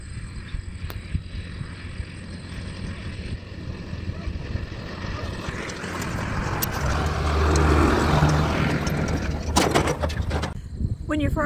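A farm tractor engine idles and rumbles near a gate, a low continuous drone that swells in the middle before settling, with scattered clanks and rattles.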